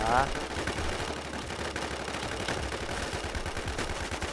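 Rapid automatic gunfire in the video game H1Z1 rattles continuously as dense, moderately distant bursts throughout.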